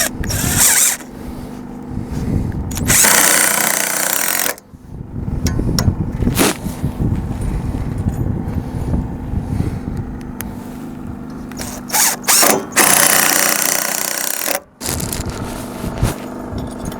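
A power tool drives long screws into the wooden framing of a pole barn while sidewall purlins are installed. It sounds as several loud, harsh whirring bursts, each a few seconds long, separated by quieter stretches of handling and scraping.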